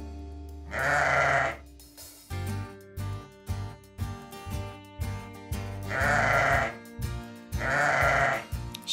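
Sheep bleating in three loud, close, wavering cries, with a steady pulsing background between them and no talk.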